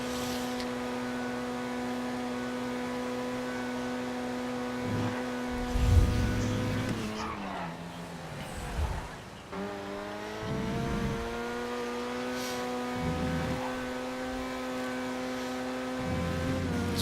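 Race cars from Grand Theft Auto lapping Club Motorsport Raceway, engines droning steadily as the pack passes with revving and gear changes, one car swelling loud up close before the sound settles back into continuous engine whine.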